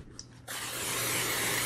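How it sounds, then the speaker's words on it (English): Pam cooking spray being sprayed into a loaf pan in a home kitchen: after a brief quiet moment, a sudden steady hiss of aerosol starts and continues close and loud to the end. "spray with a little Pam cooking spray"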